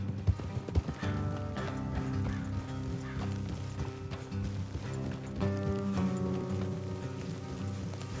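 Horses moving at a gallop through the Red Dead Redemption 2 game world, their hoofbeats steady and continuous under a dense layer of music with no one talking.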